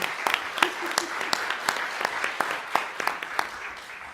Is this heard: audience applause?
yes